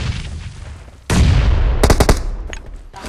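A grenade blast in PUBG Mobile: a sudden loud boom at about one second with a long rumbling tail, then a rapid cluster of sharp gunshot cracks and a few fainter shots after.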